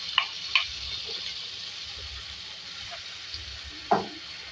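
Chopped onion and garlic sizzle softly in hot oil in a pan for a beef recipe, a faint steady frying hiss broken by a few quick stirring clinks and scrapes, with no voices.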